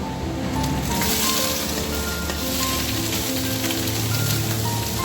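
Banana stem tossed into hot oil with a mustard seed tempering, frying with a loud continuous sizzle and occasional stirring scrapes, close up, steady for several seconds without talk.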